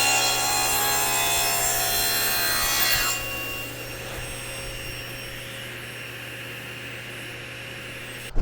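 Pine boards for a table top are cut to length, a loud, close, steady power-saw whine with rasping wood friction that drops to a lower, quieter run-down after about three seconds before stopping.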